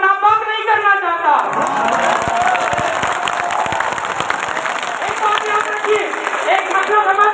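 Rally crowd clapping and cheering, dense steady applause from many hands with shouts and whistles mixed in, loud and continuous, with a voice crying out over it at the start and end.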